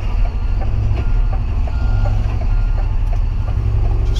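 A truck reversing, with repeated beeps sounding at a steady pulse over a loud, constant engine rumble and no talk.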